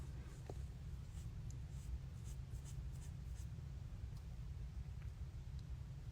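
A pencil colors a small flower by hand, a faint, steady scratchy scribbling close up over a low background hum, with no talk.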